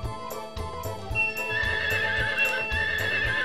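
A horse in the Harvest Moon 64 video game whinnies over steady, rhythmic clip-clop hoofbeats, with a bright game-music tone joining partway through.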